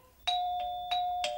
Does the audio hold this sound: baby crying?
no